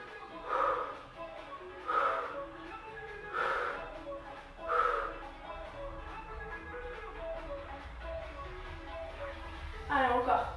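Repeated forceful exhalations during sit-ups in a fitness class, about five hard breathy blows in an even rhythm a second or so apart, close to the microphone with no talking.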